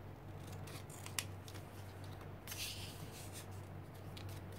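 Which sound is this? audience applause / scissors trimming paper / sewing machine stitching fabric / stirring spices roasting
scissors trimming paper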